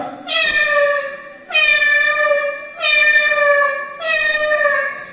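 A person mimics a cat, giving four long, drawn-out meows in a steady rhythm, loud and close.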